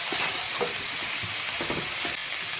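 Banana stem poriyal with peanuts, dried red chillies and garlic being stirred in a pan, a steady close sizzle broken by scraping strokes of the spoon at an uneven pace, with no talking.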